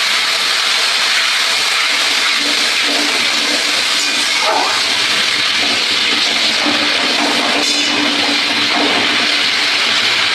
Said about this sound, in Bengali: মশলাটায় আমি একটু জল দেবো,